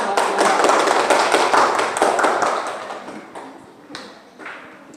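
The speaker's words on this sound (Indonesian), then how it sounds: "Tepuk tangan." A burst of clapping from a classroom group, loud at first and thinning out into a few scattered claps before fading.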